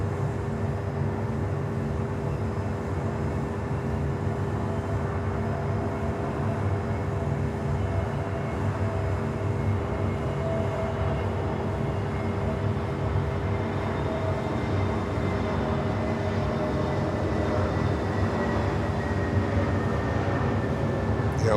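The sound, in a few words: Avianca Airbus A320neo aircraft at Miami Airport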